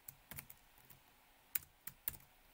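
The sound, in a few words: typing on a computer keyboard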